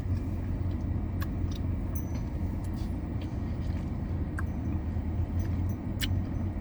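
Inside a moving car, steady low road rumble and engine drone fill the cabin continuously, with faint scattered clicks on top and no voices.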